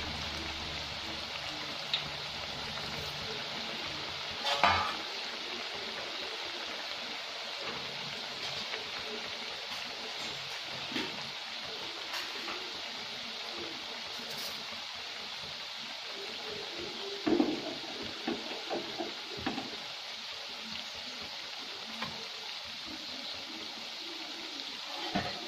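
Chakli spirals fry in oil over a medium flame, producing a continuous soft hiss and bubbling crackle, close and even throughout, with a couple of brief utensil taps.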